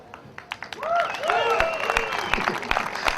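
Crowd at an outdoor Oath Keepers muster on Lexington Green clapping and cheering, with whoops and shouts rising over scattered claps that swell into steady applause.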